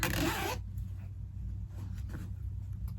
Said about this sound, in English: That's a loud zipper.